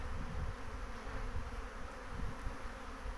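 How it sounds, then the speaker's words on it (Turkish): Dense, continuous buzzing of a honey bee swarm with young worker bees gathering, many wings droning together at close range with no voices. "Ondan sonra diğer işçi arılar da oraya toplanacak. Genç işçi arılar."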